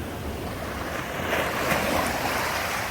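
Gentle ocean surf washes onto a beach in Flores, a steady broad rush of moderate waves with a slight swell partway through, mixed with wind noise and no talking.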